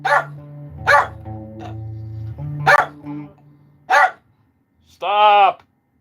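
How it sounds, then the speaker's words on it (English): A poodle barks in several sharp, separate bursts over a steady low hum, then gives a higher, drawn-out whine. "He's got a poodle, man. So once he starts barking, he goes nuts"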